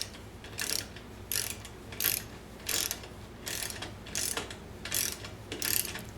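A ratchet with a T27 Torx bit clicks in repeated short bursts while torquing a bolt on a 2010 Harley-Davidson FLHTC, about nine rhythmic strokes, close and fairly quiet with no talking.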